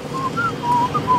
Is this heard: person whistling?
yes